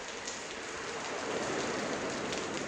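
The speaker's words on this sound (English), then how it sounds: "I don't like the rain." Steady rain falls outside a storage unit, a dense, even hiss of drops on surfaces, close and constant, with no voices.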